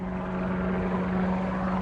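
An Aerocar flying car drones along in flight, its propeller engine a steady loud hum with a constant low tone heard from inside the cabin, unbroken and without speech.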